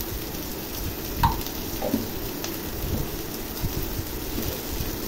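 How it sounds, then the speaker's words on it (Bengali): Spices and vegetables sautéing in a pan for a Bengali rui fish curry, giving a quiet continuous sizzle with a couple of faint spatula taps. "এই মশলা এবং সবজি খুব ভালো করে কষিয়ে নেব।"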